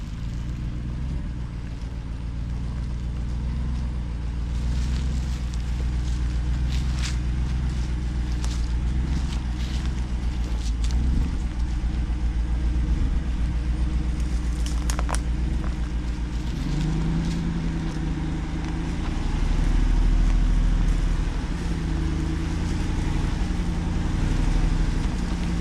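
A 2023 Jeep Wrangler Rubicon 392 creeps down an off-road hill, its engine a low, steady rumble close by with small bumps and rattles, rising slightly in the final seconds; no talk.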